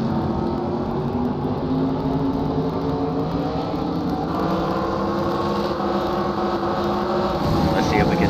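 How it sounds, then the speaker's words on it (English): Onboard a modified race car at Thompson Speedway, the engine drones loud and continuous from up close, with a steady roar and a slight rise near the end. "As we ride with Chris Mack here to get an idea of how this track looks"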